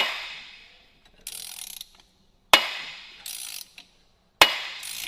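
A ratchet wrench clicks in repeated short bursts while cranking hard on a stubborn engine crank pulley, with sharp metallic knocks between strokes, close and loud.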